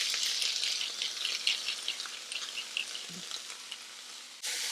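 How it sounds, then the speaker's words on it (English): Tomatoes sautéing in a pan with salt and pepper for homemade tomato soup, giving a loud, steady close sizzle with faint stirring rattles that drops off briefly near the end, with no speech. "So we're only going to saute all this for a little longer"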